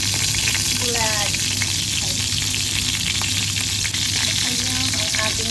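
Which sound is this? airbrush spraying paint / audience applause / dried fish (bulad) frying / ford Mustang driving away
dried fish (bulad) frying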